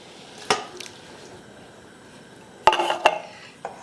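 Two cans of petite diced tomatoes emptied into a soup pot for minestrone: two brief, wet, squishy plops with light metallic clinks, separated by a quiet pause.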